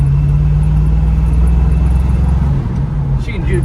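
A 1974 Pontiac Firebird with a 400 cubic inch V8 running up a road, a deep steady engine drone that shifts pitch as it moves through its three forward gears, loud and near.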